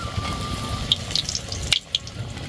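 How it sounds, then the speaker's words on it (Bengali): Chop fritters fry in oil with a soft, steady bubbling sizzle, punctuated by a few sharp clinks of a utensil against the pan. "এই যে আমার চপ ভাজা হয়ে গেছে"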